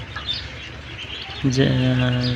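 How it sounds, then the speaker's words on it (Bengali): Ducklings playing in water give soft, high chirps and peeps, with a clearer run of calls late on, under quiet talk and outdoor background noise. "দেখেন হাঁসের বাচ্চাগুলো কি সুন্দরভাবে খেলাধুলা করতেছে"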